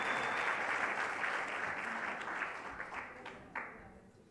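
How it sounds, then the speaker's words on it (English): Workshop attendees give the exhibitors a round of applause, a full, close burst of clapping that gradually thins and fades, with a few last scattered claps near the end. "Can we give them another round of applause?"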